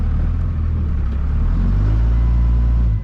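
A Cummins diesel truck engine rumbles loudly and close while backing a trailer, a steady low idle swelling slightly as it moves, with no talk.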